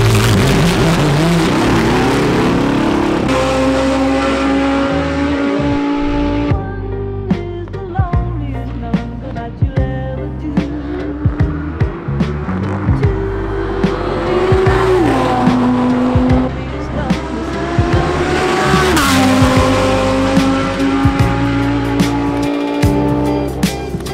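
A Lamborghini Huracan GT3 racing version screams at speed around a track, the engine loud and close as it climbs and drops through the gears with sharp downshift blips, continuous for over twenty seconds.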